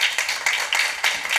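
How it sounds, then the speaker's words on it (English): Audience clapping to welcome a guest onto a stage, a brief loud burst of hand claps with a few uneven surges. "Let's give River a hand clap"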